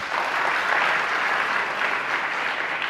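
Audience applause at a religious discourse, a sustained, dense clapping that stays loud and steady from start to end with no speech over it.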